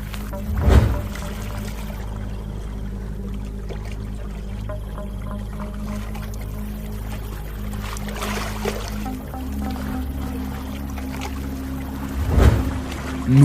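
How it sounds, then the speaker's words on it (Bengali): In a Bengali ghost cartoon, a boat drifts downstream on a river current at night, heard as a low steady watery rumble with a couple of louder splashing swells at the start and end. "নদীর স্রোত নৌকাটাকে গন্তব্যের দিকে টেনে নিয়ে চলেছে"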